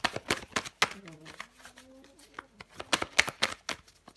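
Tarot cards are handled, shuffled and laid down on a table in quick papery flicks and taps, with someone speaking French over them.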